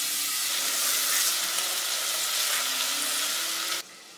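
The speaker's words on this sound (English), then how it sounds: "wait until your onions and garlic have cooked down" Onions and garlic fry in a pot for chicken tortilla soup, giving a loud, steady close-up sizzle and hiss that cuts off abruptly near the end.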